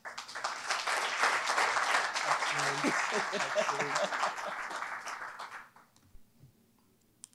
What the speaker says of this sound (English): please give a big round of applause as a welcome on stage, Joel Spicer